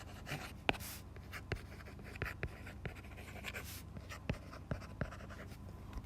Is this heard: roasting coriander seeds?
no